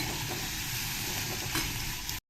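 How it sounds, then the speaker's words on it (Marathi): Onion roasting in a pan sizzles and crackles steadily, a dense frying hiss that runs without break for about two seconds before cutting off abruptly. "आता हे भाजून घेते माझ्याकडनं आहे ना कांदा थोडासा"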